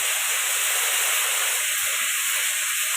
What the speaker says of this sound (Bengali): এটা একটু লাল লাল করে ভেজে নেবো